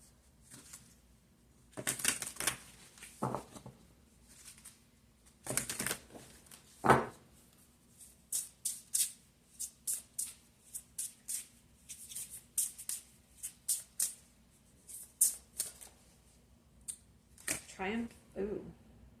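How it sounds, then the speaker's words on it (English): Deck of tarot cards handled during a reading, with a run of crisp shuffling riffles and snapping card flicks in quick bursts, close but fairly quiet, while a voice speaks intermittently. "Let's pull some more cards."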